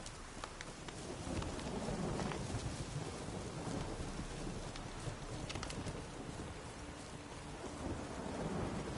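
Heavy rain pours steadily in The Witcher video game while low thunder rumbles on and off underneath, a dense, unbroken storm ambience with no speech.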